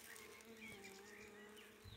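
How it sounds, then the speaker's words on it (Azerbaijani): Bees buzz around flowering plants in a soft, steady, continuous hum, faint and even for the whole moment. "hamısı arılar, bal çəkir"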